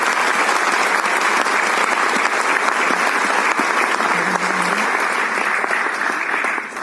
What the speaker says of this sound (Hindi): तालियों की गड़गड़ाहट से हम धन्यवाद करते हैं